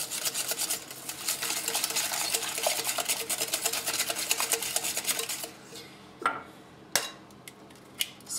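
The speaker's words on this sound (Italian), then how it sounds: "E amalgamo bene" Egg being stirred and mixed into a savory filling of smoked salmon, ricotta and provolone, with a utensil scraping steadily and rhythmically against the bowl for several seconds, then a few separate knocks and clinks.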